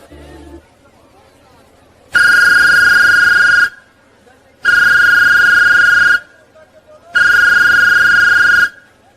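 Three long electronic telephone rings, each about one and a half seconds with even pauses between, loud and close, set in a staged school play about a dowry dispute.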